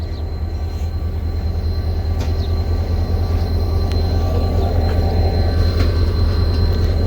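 Passenger train 48Dn Rehman AC, hauled by locomotive 8203 between Rohri Junction and Hyderabad Junction, rolls along with a loud, steady low rumble and a constant drone, with faint rail clicks and squeals now and then and no talking.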